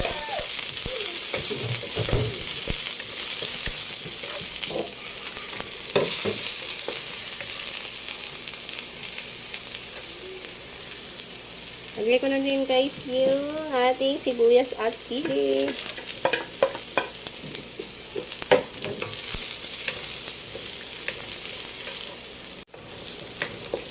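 Onion, garlic, ginger and lemongrass sizzle and sauté in a hot pan, a steady close frying hiss with stirring scrapes, while a voice hums or speaks briefly in the middle.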